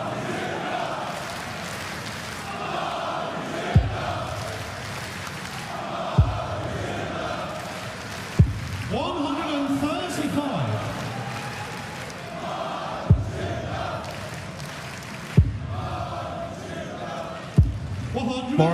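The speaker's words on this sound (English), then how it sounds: "More of a sedate crowd on this Sunday afternoon, but they are beginning to make noise for their man." A Sunday afternoon darts crowd at the European Darts Trophy keeps up a rumbling murmur of noise and cheering, punctuated by repeated sharp thuds, with a commentator's voice talking over it.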